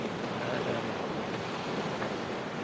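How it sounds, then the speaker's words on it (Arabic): Sea waves washing onto the shore, a steady broadband rush of surf mixed with some wind buffeting the microphone, continuous and fairly close for the whole stretch. "هذا البحر"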